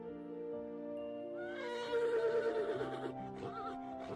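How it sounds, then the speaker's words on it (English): A horse whinnies in the video game Mad Father, a high, wavering cry over a steady sustained tone, moderately loud and close. "I hear horses. They don't sound far off."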